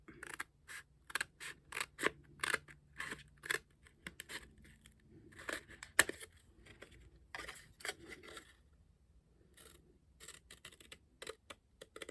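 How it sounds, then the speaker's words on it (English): Scissors cutting one side off a small cardboard box for homemade bead storage, making a quick series of sharp, close snips in bursts with short pauses between them, and no talking. "I'm going to cut one side off of it."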